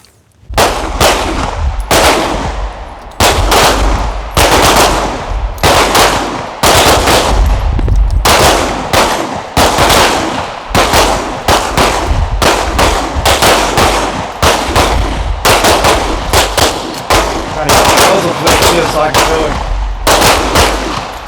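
Rapid pistol gunfire on an outdoor shooting range during a tactical pistol course, with many sharp, loud shots in dense bursts and clusters that carry on with only brief pauses throughout.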